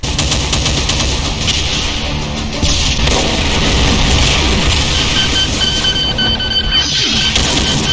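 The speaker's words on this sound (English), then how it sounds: "Right arm attacks can shoot legendary assault shotgun shots at close range." A Hell Baron variant in a Doom mod blasts legendary assault shotgun shots and rockets in a dense, continuous, very loud barrage of gunfire and explosions with no letup.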